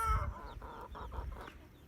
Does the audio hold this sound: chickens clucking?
yes